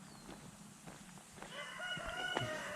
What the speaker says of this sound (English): boy, that rooster is driving me nuts